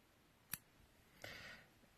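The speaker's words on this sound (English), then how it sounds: "now I'll just cut my yarn" Scissors cutting crochet yarn for a granny square blanket: a single sharp, close snip, then a softer brief rustle about a second later, quiet overall with no talking.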